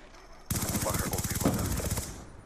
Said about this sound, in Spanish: Le disparamos.